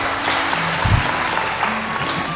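Brief, steady applause from the audience at the 2009 final of a spelling bee in Benin, dense clapping throughout with no talking.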